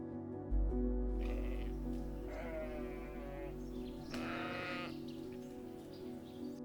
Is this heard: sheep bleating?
yes